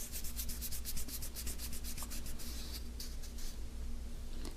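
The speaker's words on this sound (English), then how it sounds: "with my Pro Polish pad, just buff the rest of it off" Metal is buffed with a Pro Polish pad in quick back-and-forth strokes, each pass a dry rubbing swish, over a constant low motor hum.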